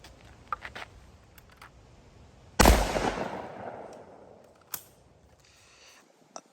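A shotgun fitted with a Rhino choke fires once at clay pigeons outdoors, a loud close sharp blast that rolls off in a long decaying echo, with a few light clicks and handling taps before and after.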